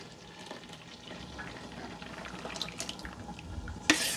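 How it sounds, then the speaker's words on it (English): Coconut milk poured into a cooking pot for Jamaican brown stew beef gives a steady, soft liquid pouring and splashing sound, ending in a brief sharp clink, with no talking. "So first, I am going to go ahead and add my coconut milk."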